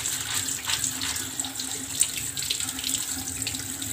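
Fresh tap water pours steadily over drained boiled macaroni in a kitchen sink, a continuous close splashing rush with no talking.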